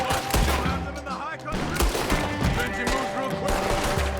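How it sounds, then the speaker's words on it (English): Rapid gunfire in Red Dead Redemption 2 cracks close and loud in dense volleys and bursts, with voices talking beneath the shooting. "What are those guns they have?"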